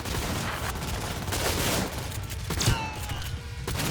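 Shotgun fire in the video game Cyberpunk 2077, a dense run of gunfire blasts and bursts amid loud continuous combat noise with a few mechanical clicks.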